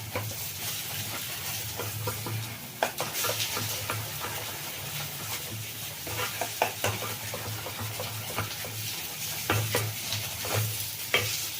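Carrot halwa stirred in a sizzling pan with fried raisins and cashews, a steady close scraping and frying hiss with irregular spoon knocks throughout, no voices.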